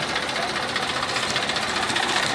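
A small Massey tractor engine runs steadily with a continuous rattling, knocking idle, close and moderately loud.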